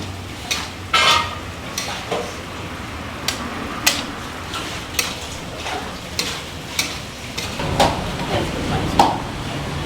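A spoon stirs salt into zunka, a thick gram-flour dish, in a pan at a Nagpur thali kitchen. Repeated close scrapes and knocks against the pan sound over a soft, steady sizzle.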